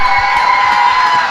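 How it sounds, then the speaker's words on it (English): A wrestling arena crowd cheers loudly and steadily, a dense wash of voices and whoops with no gaps. "You hear the crowd response for the Trailer Park."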